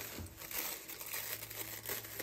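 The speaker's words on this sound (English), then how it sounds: "plastic bags are kind of hard to cut, but just keep going with it. Maybe even rip it." A plastic bag being cut and ripped by hand for a recycled plastic art project, producing continuous close crinkling and rustling with small crackles, with no voice over it.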